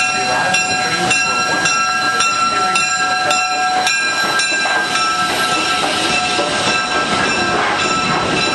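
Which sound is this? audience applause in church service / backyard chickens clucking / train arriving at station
train arriving at station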